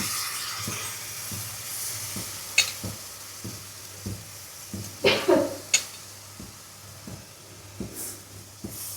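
Prawns in masala with fennel powder being sautéed and stirred in a pan for Bengali Chingri Malaikari: a steady close sizzle broken by regular spoon scrapes and a few sharper clanks against the pan.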